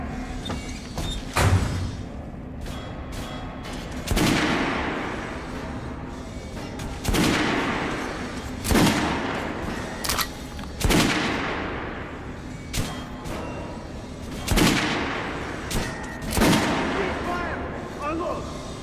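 Gunfire volleys ring out in the game Metro Last Light Redux, several loud sharp blasts spaced a few seconds apart, each trailing off in a long echo.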